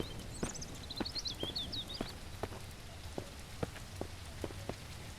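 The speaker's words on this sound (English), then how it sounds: "And we have some rain coming in" Light rain patters in the survival game Mist Survival, a soft steady hiss with scattered sharp drips, while high chirping calls flutter briefly near the start.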